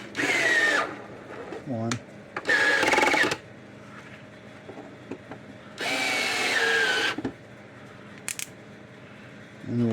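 A power drill drives screws into a Zareba solar fence charger in several short, loud whirring bursts separated by pauses, close by, with someone speaking briefly between them.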